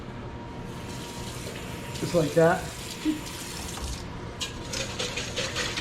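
A small splash of water poured into hollandaise sauce in a home kitchen, brief and gurgling, heard under a cook talking, with light utensil clatter afterward.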